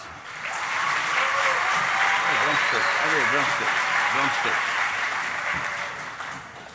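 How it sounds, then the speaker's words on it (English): A crowd at a hoop dancers' powwow finale on a festival main stage bursts into loud, sustained applause, with voices calling out over the clapping midway before the ovation gradually fades. "let's give them a big round of applause"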